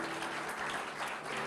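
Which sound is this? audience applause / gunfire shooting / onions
audience applause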